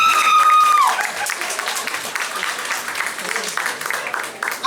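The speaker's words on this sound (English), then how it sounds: "Please give a round of applause for everyone in the audience who's been to the hospital recently" Applause from a comedy show audience, a broad crowd wash that starts after a brief voice and continues steadily at fairly loud level.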